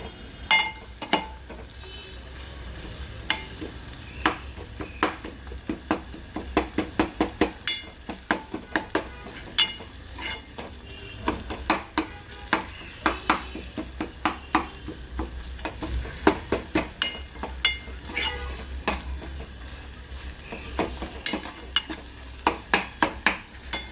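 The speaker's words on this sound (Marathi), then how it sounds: "हे सगळे मसाले टाक टाकून आपण याला भाजून घेणार आहोत" Garlic, coriander and cumin masala roasting in a pan for a black-eyed pea sambar, with a steady low sizzle and frequent sharp spoon scrapes and taps ticking rapidly throughout, close and fairly loud.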